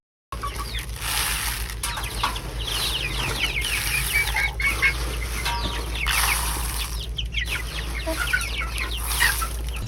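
Chicks chirping in a busy, continuous chorus of high peeping calls, close and fairly loud over a steady low hum, with some clucking mixed in.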